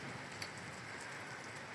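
Rain falls steadily in an even, continuous hiss of drops at moderate volume, with no voices and no clear change over the stretch.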